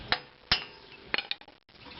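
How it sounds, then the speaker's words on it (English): A hammer smacks the axle of a 1992 Integra during an alternator replacement, giving two sharp metallic strikes followed by a few lighter clinks, close and fairly quiet, with no talk. "Smack with a hammer a little bit"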